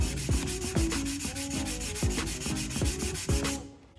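Sanding block worked back and forth across a Corvette C3 water pump housing to flatten it, close rhythmic rasping strokes about twice per second, stopping at the end.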